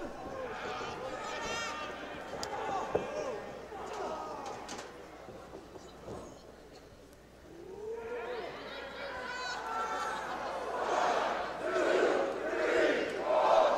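Wrestling fans at the Epic chant together in a rhythmic count during a casket match between two wrestlers, the crowd noise swelling louder in the second half while commentators talk over it.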